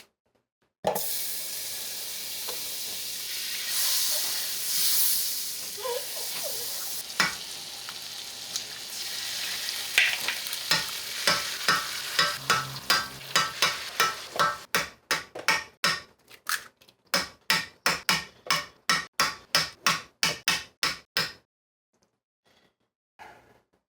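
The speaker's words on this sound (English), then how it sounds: "I'm gonna preheat my pan, get some butter in there, and then start cracking some eggs" Butter sizzles loudly in a preheated pan as eggs are cracked in, a steady frying hiss that gives way to a run of quick rhythmic taps and scrapes, close and with no talking.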